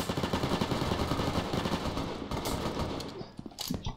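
Rapid automatic gunfire rattles continuously in the shooter game Brain Out, dense and loud bursts with a few louder sharp shots near the end.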